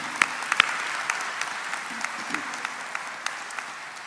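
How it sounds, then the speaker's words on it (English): Graduation-ceremony audience clapping for an award honoree, a steady wash of moderate applause with a few sharper nearby claps standing out. "You can clap for that."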